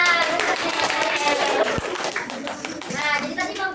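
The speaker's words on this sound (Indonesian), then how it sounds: "tepuk tangan" A class of students claps hands together, a dense, steady patter of many palms that holds for several seconds, with children's voices talking over it.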